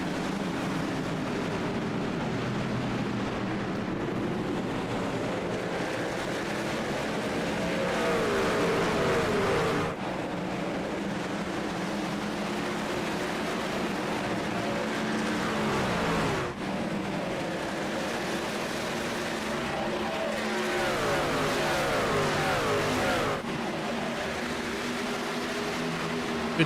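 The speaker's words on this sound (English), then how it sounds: "Cyber Thunder Truck Series heading off into turn 1." Racing trucks at Watkins Glen in the iRacing sim, Cyber Thunder Truck Series, a continuous droning engine roar with shifting pitch as the pack runs through the corners, steady and loud with a few abrupt cuts in tone.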